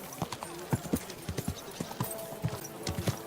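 Horse hooves clip-clopping at a steady walking rhythm while riding in the video game Kingdom Come Deliverance 2, fairly quiet and close, with faint ambient background.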